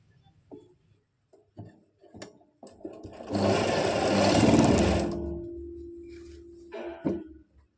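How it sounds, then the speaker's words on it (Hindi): A sewing machine stitching the side seam of elastic-waist palazzo pants with a pocket: a few light clicks and handling sounds, then one close, steady whirring run of about two seconds that slows and stops, followed by more clicks. "अब हम प्लाजो की दूसरी साइड में भी इसी तरह से सिलाई लगा देंगे।"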